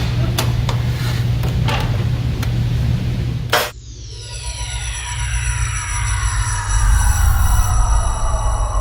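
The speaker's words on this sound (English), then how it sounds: "So now we back cut a miter" A power saw makes a miter cut in wood for a keepsake box. A few light knocks come first, then a sharp loud burst of cutting, followed by the motor's whine slowly winding down.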